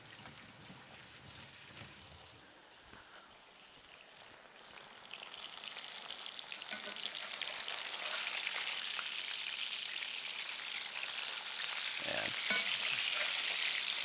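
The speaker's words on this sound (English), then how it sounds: "frying stuff in beef tallow" Chapli kebab frying in beef tallow gives a steady, close sizzle that starts quieter, dips briefly, then grows louder and denser as cooking continues, with no talk.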